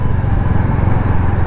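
A Royal Enfield Hunter 350 motorcycle rumbles steadily while riding, its low engine drone close and continuous with no talking over it.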